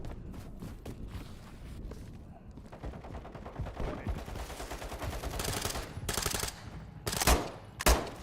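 Video game gunfire crackles in rapid automatic bursts over a steady noisy backdrop, with a few louder, sharper shots near the end.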